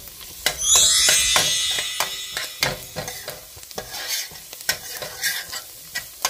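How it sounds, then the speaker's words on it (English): Garlic hits a pot of cooked-down onions and celery with a loud burst of sizzling, then fades to a steadier fry broken by repeated spoon scrapes and clacks as it is stirred. "Now I'm just going to add that garlic. Cooks really fast."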